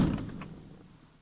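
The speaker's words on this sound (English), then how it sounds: "see, the door doesn't even shut" A car door on an Ineos Grenadier prototype swings and fails to latch, giving a dull thud and a short rattle that fade quickly, close by and fairly quiet.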